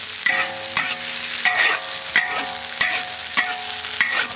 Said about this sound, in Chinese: 这个豆腐干啊，也要稍微炒一点时间才香啊